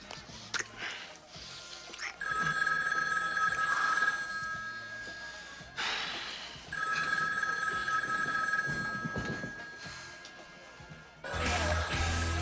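An old-fashioned telephone bell rings in repeated long bursts separated by short gaps, loud and close, with speech partly mixed in.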